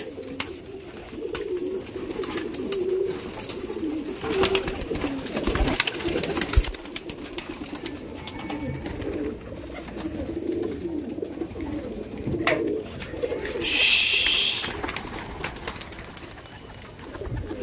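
Madras pigeons just released from a loft coo steadily in the middle distance, a low murmuring chorus with occasional wing flutters and background outdoor noise.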